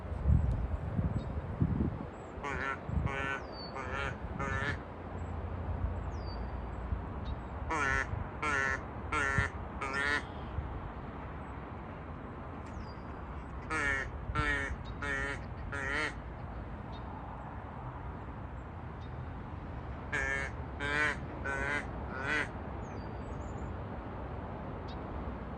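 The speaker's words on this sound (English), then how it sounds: "Oh, there's a lonely duck over there." Ducks quack outdoors in repeated bursts of four to five rapid, nasal calls separated by pauses, fairly close and clear over a rustling background, with some faint voices in between.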